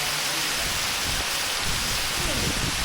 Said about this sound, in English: I went through the waterfall.